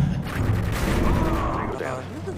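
Gunfire in the video game Modern Warfare 2 during team tactical play, a loud dense rattling burst of rapid shots with booming low end, under excited talk.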